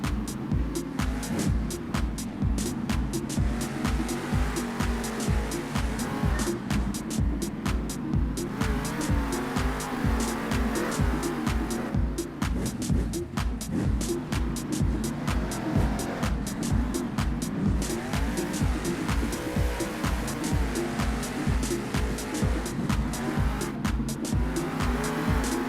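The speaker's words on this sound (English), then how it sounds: "Both trucks are staged, and it's time to go. Round one racing." Monster Jam monster trucks racing side by side in round one at a San Diego stadium show, with loud, continuous engine roar and rapid rhythmic pulsing from revving motors that persists throughout.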